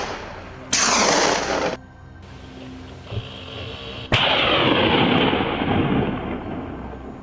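Gunfire during a wild hog hunt on a farm, two loud sharp reports about three seconds apart, each followed by a long rolling echo that fades out in open air.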